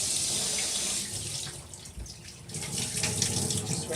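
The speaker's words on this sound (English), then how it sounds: "now I'm going to rinse it out with some water." Cold tap water runs into the tank of a Bissell 3624 Spot Clean Professional portable carpet cleaner at a sink. The flow is close and steady, dips briefly in the middle and then swells again as the tank fills.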